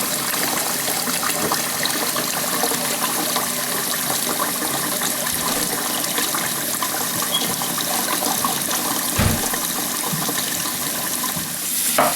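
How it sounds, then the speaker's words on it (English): Tap water runs steadily over rice in a pot during rinsing, a constant close gushing and splashing that continues for the whole stretch with no talking. "you're just gonna take the water and run on top of that rice"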